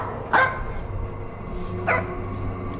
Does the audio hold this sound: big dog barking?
yes